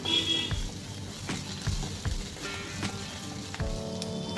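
Ginger, green chili and garlic paste with a pinch of turmeric frying in a hot pan while making a grilled sandwich filling, giving a steady close sizzle with soft crackles throughout.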